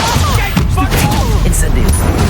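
An Incendio fire spell cast in Hogwarts Legacy gives a loud, dense stretch of roaring, crackling bursts with thumping booms that runs continuously without a break.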